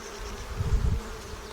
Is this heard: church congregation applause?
no